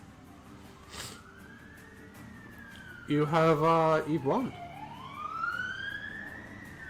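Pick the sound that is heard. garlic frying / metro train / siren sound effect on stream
siren sound effect on stream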